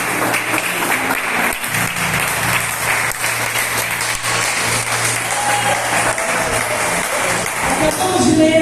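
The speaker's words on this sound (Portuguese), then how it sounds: "Se aceita batendo palmas para o Senhor" Church congregation clapping for the Lord during a sermon, a loud, dense wash of many hands sustained from start to finish with a low hum beneath and a brief dip early on.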